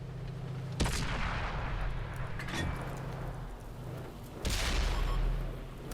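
Tank cannon shots in the console game World of Tanks, two sharp heavy booms a few seconds apart, each trailing into a rumbling decay over steady battle noise.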